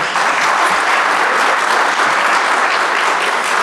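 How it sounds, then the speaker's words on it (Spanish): An audience claps steadily for a university rector, a dense, even wash of applause from a full room that holds at a constant level throughout. "un aplauso para ella"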